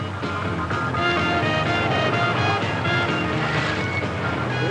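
A Leopard tank from 1972 drives through deep water, giving steady loud rushing and churning water with a constant low engine rumble underneath and no voices.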